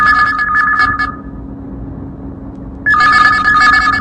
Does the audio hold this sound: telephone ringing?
yes